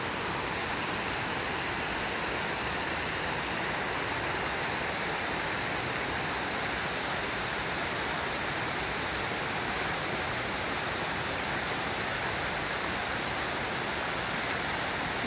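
A small waterfall at Mortain-Bocage in the Manche pours in a steady, full rush of splashing water that stays even and continuous throughout, close by and alone with no voices.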